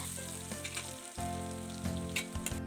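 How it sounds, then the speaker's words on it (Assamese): Potatoes sizzle and crackle steadily in hot oil in a kerahi for an Assamese meal, with a few stirring scrapes breaking through the constant frying hiss. "আলু ভাজি হৈ গ'ল"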